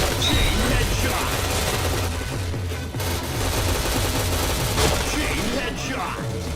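Rapid bursts of automatic gunfire crackle from a first-person shooter video game, dense and continuous with brief lulls, loud and close throughout.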